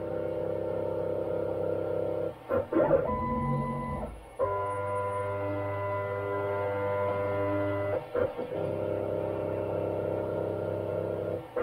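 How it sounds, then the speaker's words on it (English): A Tomahawk CNC machine runs a probing cycle with steady, tonal stepper-motor whines that shift pitch as the axes move, interrupted by a few short clunks and pauses. It is close and continuous with no talking. "We'll redo that probing cycle again."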